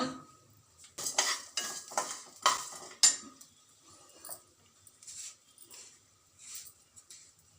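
Pepper and coriander seeds dry roasting in a pan, with a spoon scraping and clinking against the metal in bursts of stirring. The sound is close and moderately loud at first, then turns lighter and sparser, with no voice over it.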